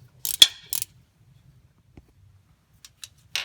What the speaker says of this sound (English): For the top one, I'm using a ratcheting wrench.